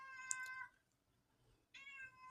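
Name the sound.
cat meowing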